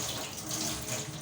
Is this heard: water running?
yes